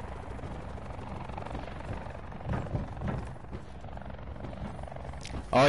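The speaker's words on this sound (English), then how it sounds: "people are shooting at that helicopter" A helicopter in a shooting video game drones steadily throughout at moderate distance, with a few brief thumps midway and a sharp louder burst at the very end.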